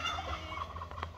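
Turkeys in a backyard flock gobble in a short, rapid rattling burst, moderately close and filling the moment without any talk.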